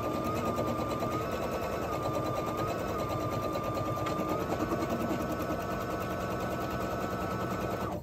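An embroidery machine runs a basting stitch through fabric, its rapid needle chatter continuous and loud at close range, with a faint steady whine underneath and no talk.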